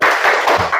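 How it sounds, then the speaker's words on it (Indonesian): A classroom of pupils performs a 'tepuk semangat' rhythmic clapping cheer, a dense burst of loud, close group claps lasting under a second. "Oke, tepuk semangat."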